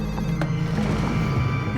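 A telephone bell rings in a hospital nurses' station setting, heard as a sustained ring with a short sharp strike early on, fairly loud over a low background hum.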